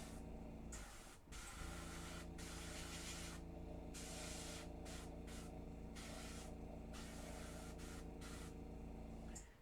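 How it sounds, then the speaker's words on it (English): Airbrush paint spray mists onto a small miniature objective marker in repeated close hissing bursts with short breaks, a steady low mechanical drone of the compressor running beneath, and no talking. "I'm purposely here kind of overspraying a little, just so we get a little bit of glow"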